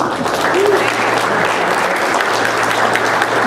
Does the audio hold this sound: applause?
yes